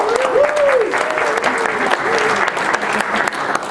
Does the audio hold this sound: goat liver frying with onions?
no